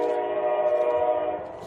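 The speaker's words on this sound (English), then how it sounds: "train whistle." A train whistle sounds outdoors as one long, steady, moderately loud blast that fades slightly at the end.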